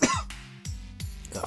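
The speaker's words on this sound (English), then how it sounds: "Cough." A character in the video game Creep!Speak coughs, with a sharp burst and then two more rough, throaty coughs in quick succession, close and fairly clear.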